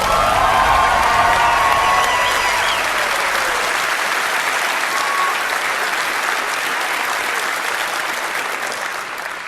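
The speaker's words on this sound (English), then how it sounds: "get another round of applause for that man" Loud, sustained applause from a large crowd at the Bethesda E3 2015 press conference, steady throughout and slowly thinning toward the end, with a few faint cheers mixed in.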